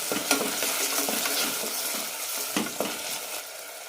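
Tomatoes sauté in a hot pan with a constant bright sizzle, punctuated by a few firm spatula strokes and scrapes against the metal, with no voices.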